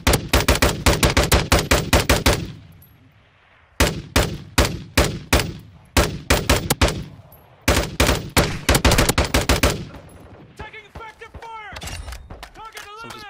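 Rapid automatic gunfire in Call of Duty Warzone, loud and close, coming in several long bursts broken by brief pauses, with a voice talking near the end.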